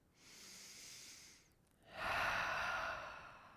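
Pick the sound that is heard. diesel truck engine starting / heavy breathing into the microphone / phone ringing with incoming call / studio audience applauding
heavy breathing into the microphone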